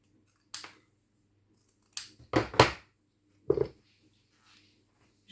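Scissors trim excess paper from a handmade bookmark, a few sharp, close snipping cuts separated by short pauses in a quiet room.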